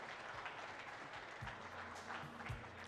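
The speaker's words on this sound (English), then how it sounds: "A round of applause to our esteemed panelists" Audience at an education technology conference applauding the panelists, a dense wash of clapping heard from a distance with a low hum and a few thumps beneath it.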